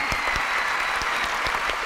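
Studio audience applauding at the final of a Thai startup pitch competition show, a dense, steady clapping wash lasting the whole short stretch with no voices over it.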